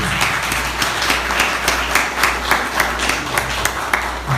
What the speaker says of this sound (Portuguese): o Elber Boaventura, uma salva de palmas para ele.